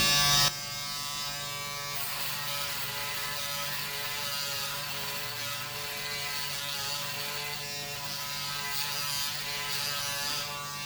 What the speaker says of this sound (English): let's get the cassette back on and do the shave. Right, this is on the standard mode then.